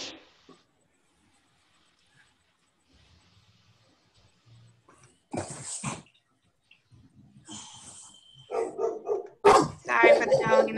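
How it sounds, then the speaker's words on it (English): A dog barks in the background of an online study-group call, with a few sharp barks and yips near the end. Long quiet gaps come between them, and a person speaks nearby. "Sorry for the dog in the back."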